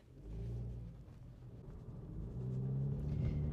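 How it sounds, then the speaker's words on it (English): A 2022 Volkswagen Polo GTI's exhaust rumbles low and steady, swelling as the engine note rises with downshifts, heard from inside the car with no talking. "get those downshifts perfect to get the right amount of noise out of the exhaust"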